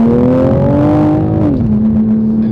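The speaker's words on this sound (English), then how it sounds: "we might be able to hear a little bit more turbo noise" A 2021 Toyota Supra with an FTP charge pipe and intake revs up loud and near, a rising engine tone with turbo whir that then drops and settles into a steady drone.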